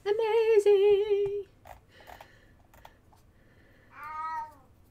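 A cat meows loudly and close, a long drawn-out call followed by a few faint clicks and rustles, then a second, shorter and quieter meow.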